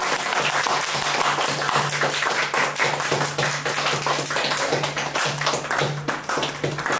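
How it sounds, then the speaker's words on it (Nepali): Audience applause at a Nepali literary gathering in Germany, a dense, steady wash of many hands clapping that fills the room for several seconds without a break, loud and close, with a faint low hum running underneath. "तपाईँको तालीले गुन्जायमान गराइदिनु होला"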